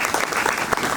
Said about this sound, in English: please give a resounding clap for this